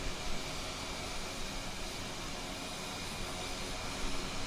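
Mitsubishi MU-2 turboprop engine in a flight simulator, a steady broadband roar with constant loudness throughout, no talk over it.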